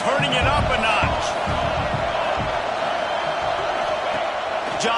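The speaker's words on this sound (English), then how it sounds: "this crowd is turning it up a notch" A football stadium crowd builds its noise into a loud, sustained roar with scattered whoops and bangs throughout.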